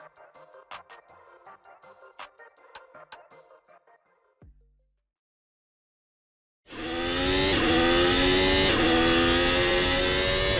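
Race car engine in the Assetto Corsa video game on a hot lap at Miami Autodrome, loud and sustained with rising revs after a quiet gap, following a stretch of busy, uneven mechanical sound.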